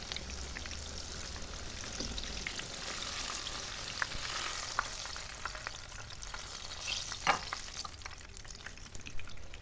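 Eggplant fries in hot oil with a steady, crackling sizzle, close and fairly quiet. Scattered pops and spits run through it, and no voices are heard.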